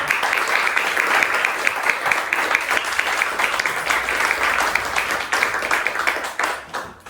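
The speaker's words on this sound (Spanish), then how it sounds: "hoy repitamos el aplauso a Sofía y Fabián." An audience at a conversatorio applauds two speakers in a steady wash of clapping hands, fairly close and even throughout, thinning slightly at the end.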